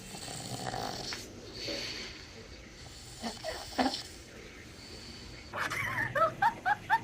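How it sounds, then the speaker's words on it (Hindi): Soft, rough snoring breaths rise and fall against a low background, ending with a series of short, sharp rhythmic snorts or squeaks. "खर्राटे"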